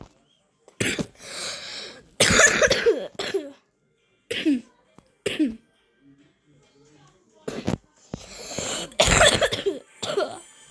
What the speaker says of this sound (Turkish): Öksürüğüm de bugün tuttu.